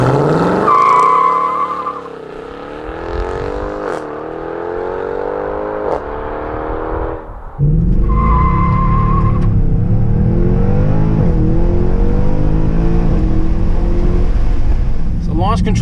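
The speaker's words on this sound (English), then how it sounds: "Got a lot more wheel spin, which isn't completely shocking." A tuned Mercedes C63 making over 500 horsepower launches hard, its engine revving up through rising pitch while the tires spin, then a loud roaring burst of throttle and wheel spin carries on to the end.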